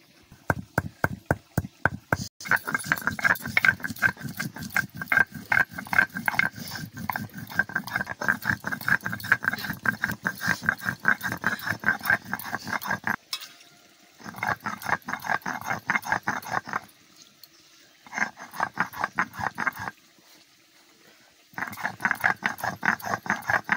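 Cloves, cardamom and cinnamon being ground into garam masala make rapid, rhythmic knocking strokes at close range, running in long bursts with a few short pauses between them.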